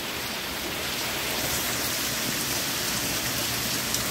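Outdoor rain comes down in a dense, fairly loud and steady wash of patter and hiss, close by and unbroken.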